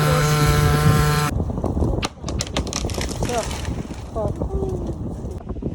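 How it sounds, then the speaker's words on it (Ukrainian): Gusty wind buffets the microphone with rough rumbling bursts while a person speaks over it, after a steady engine hum cuts off at the start. "Сьогодні дуже вітер"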